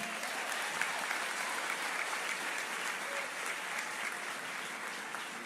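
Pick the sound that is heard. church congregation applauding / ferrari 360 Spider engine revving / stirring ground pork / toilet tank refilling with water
church congregation applauding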